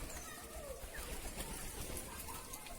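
Pigeons kept at home, a newly arrived bird among them, coo on and off against a steady, fairly busy background, with no talk over them.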